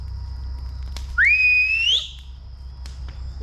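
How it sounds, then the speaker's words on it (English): A single loud whistle, a rising then level tone lasting under a second, rings out over a low outdoor rumble at a campfire, calling a dog. "Whistle, babe."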